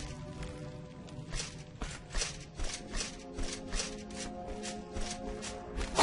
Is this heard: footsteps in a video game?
yes